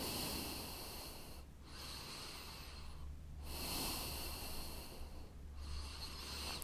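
Slow, deliberate breaths during a side stretch in a vinyasa yoga flow, two long inhale-exhale cycles close to the mic, airy and nasal with soft pauses between.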